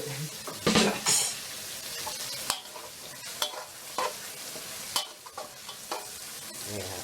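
Oil sizzling in a wok to clear its smell before beef goes in for stir-fried holy basil beef, with a crackling burst near the start, then quieter frying and sharp spatula taps against the wok.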